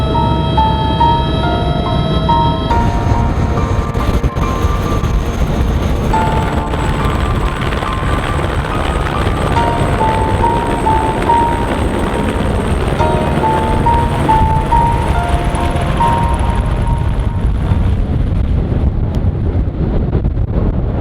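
Helicopter flying over Antarctica, heard from inside the cabin as a loud, continuous roar of engine and rotor noise with steady tonal whine, unbroken throughout.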